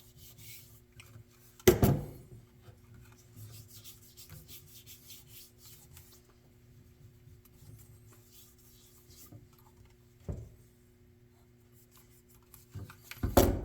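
Fingers rub oil over the receiver of a Marlin 336 lever-action rifle, making soft, close, intermittent rubbing and scuffing strokes over a faint low hum, with a few louder knocks and handling bumps and no talking.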